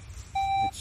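A Minelab Equinox 800 metal detector gives a single clear, steady electronic tone lasting about a third of a second over quiet outdoor background.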